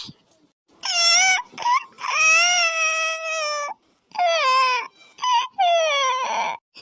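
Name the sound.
child crying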